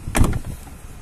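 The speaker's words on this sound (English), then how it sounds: "electric windows." Electric windows on a petrol automatic Ford Focus C-Max running briefly, a short motor whir near the microphone that fades into quiet cabin hush.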